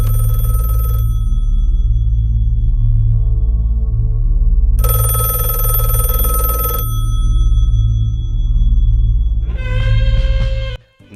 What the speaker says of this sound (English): Now, the phone rings one last time